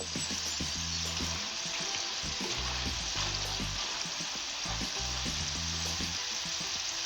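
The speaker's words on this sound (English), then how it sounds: "Yeah, so this is the second round that I'm deep frying them after the first round." Potato chips for chips masala sizzle steadily in hot deep-frying oil on their second fry, a continuous bubbling crackle with no talk.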